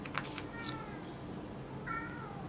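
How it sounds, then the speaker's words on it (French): A cat meows indoors, giving a couple of soft, fairly faint mews that stand out over a quiet background hum. "c'est mon chat"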